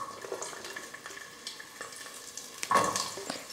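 Small onions sautéing with spices in a pan for a chickpea masala gravy: a quiet sizzle with scattered stirring scrapes, then a louder burst of frying near the end.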